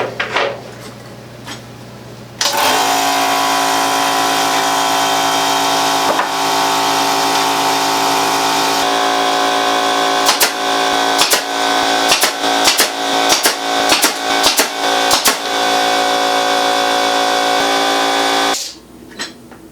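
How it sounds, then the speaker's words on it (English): A brad nailer fires into a mitered wooden stair nosing, a rapid series of sharp, close pneumatic clacks over a steady compressor-like hum, with about a dozen shots clustered in the latter half. "the brad nailer is kind of my little secret on how to keep those edges together"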